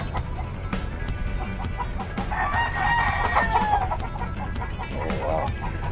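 A pure claret gamefowl brood rooster crows once, loud and close, its drawn-out call rising over steady background noise, with other clucking fowl nearby.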